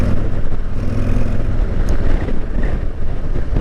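A 2022 Harley-Davidson CVO Street Glide cruises in sixth gear, its steady engine drone blending with loud, constant wind rush at road speed and no pauses.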